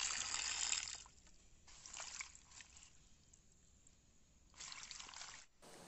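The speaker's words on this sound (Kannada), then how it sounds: "ಕೊಯ್ದ ನಂತರ ಈ ರೀತಿಯಾಗಿ ನೀರಿನಿಂದ ತೊಳೆದುಕೊಳ್ಬೇಕು." Freshly cut taro leaves are rinsed under water for a village tetla recipe: soft bursts of running, splashing water come and go in three spells with quieter gaps between, close and faint.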